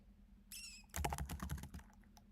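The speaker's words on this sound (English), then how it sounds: "I need to get better at typing." Fast typing on a computer keyboard in a quiet room, a dense burst of close clicking keystrokes lasting about a second after a brief high squeak, over a steady low hum.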